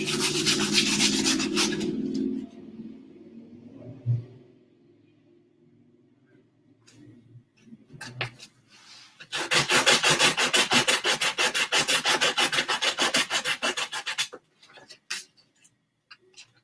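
A small wooden wand handle being sanded by hand, with a brief rubbing burst at the start and then a longer stretch of steady, close, rhythmic rasping strokes, separated by a quiet pause with a few faint taps.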